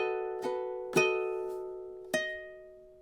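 Ukulele playing measure 29 of a song, three plucked notes or chords spaced unevenly, each ringing bright and clear and decaying slowly, close and alone.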